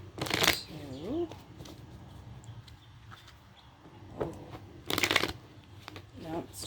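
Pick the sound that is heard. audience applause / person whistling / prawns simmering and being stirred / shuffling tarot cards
shuffling tarot cards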